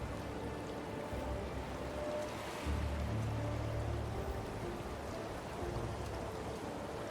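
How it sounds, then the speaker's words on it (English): The Storm Rain skill effect in Path of Exile plays as a faint steady rain-like hiss and patter with a low rumbling swell midway, quiet game ambience and no talking. "I don't need Storm Rain. I don't even know if it's triggering. It sounds cool."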